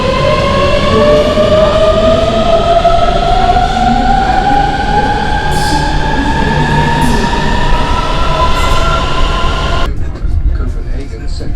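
A metro train runs through Copenhagen airport station with a loud steady rumble and a rising whine from its motors, then cuts off sharply near the end.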